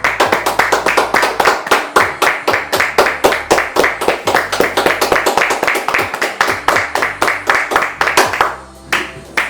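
A church congregation claps in quick, rhythmic unison, dense and loud, keeping a steady beat for several seconds before tapering off near the end.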